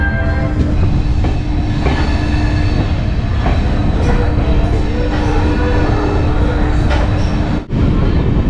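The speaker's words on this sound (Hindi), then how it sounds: "ऐशबाग से डिपार्ट करती हुई अपनी ट्रेन" A passenger train departs Aishbagh junction in Lucknow, heard from on board as a loud, continuous rumble with faint rhythmic rail clatter and a steady tonal hum.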